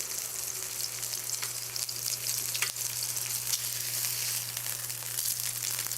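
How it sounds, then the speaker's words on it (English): Steady, close crackling sizzle of American Wagyu burger patties frying in a hot pan, with scattered louder pops and a low hum underneath, no talking. "I should also turn off the noise filter so that you can hear the sizzling"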